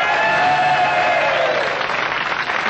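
Live concert audience applauding for a band, a loud, dense wash of clapping and crowd noise throughout, with sustained musical tones running beneath it.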